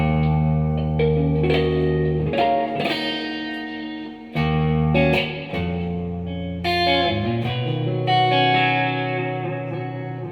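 Heavily distorted electric guitar played through a Kemper Profiling rack amp with a lush reverb effect, sustained chords and notes ringing out in long washy tails, loud and alone without talk.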